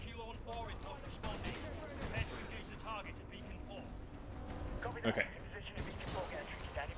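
Gunfire and explosions from the Titanfall 2 campaign on Master difficulty, rapid bursts and heavy booms crackling through a busy battle mix while someone talks briefly over it.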